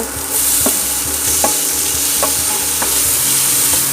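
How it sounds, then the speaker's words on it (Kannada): Tomato is stirred into egg sukka masala in a hot frying pan, with a loud, steady sizzle and periodic scraping strokes of a spoon roughly every half second. "ಸರಿ ಮಿಕ್ಸ್ ಮಾಡ್ತೀವಿ. ಮತ್ತೆ ಟೊಮೆಟೊ ಪಾಡ್ಗ"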